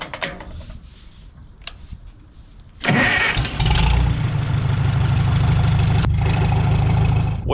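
An International I-4 engine bought at auction cranks and catches with a sudden roar, then settles into a loud, steady rumbling run with a brief dip near the end, preceded by quieter clicks and outdoor noise.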